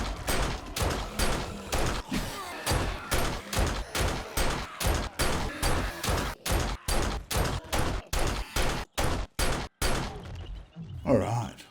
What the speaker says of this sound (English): we're just going to have to sit here and fire indiscriminately into the deck